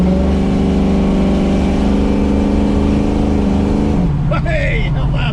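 A 1967 Ford Mustang 302 High Performance coupe with its V8 engine holds a loud, sustained roar under acceleration. The engine note drops in pitch and eases off near the end.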